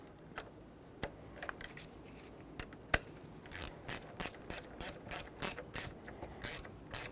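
A ratchet snugs the negative battery terminal clamp on a 2000-2005 Ford Excursion 6.8L V10, starting with a few scattered clicks and then settling into a regular run of crisp, close clicks at roughly one per third of a second.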